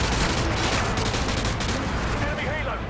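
Dense, continuous gunfire from Call of Duty Modern Warfare 2, a loud rattling barrage of rapid shots filling the whole stretch, with a voice talking faintly beneath it.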